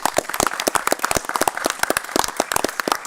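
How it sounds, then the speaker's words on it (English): An audience at the New Castle County budget address claps for elected county officials; a dense, steady patter of hand claps runs throughout at moderate loudness, with no talk over it. "Let's give them all a round of applause."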